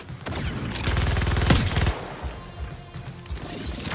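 Rapid automatic gunfire burst from the Suicide Squad: Kill the Justice League video game, a dense loud volley over about two seconds with a sharp blast near its end, then trailing softer shots and game clatter.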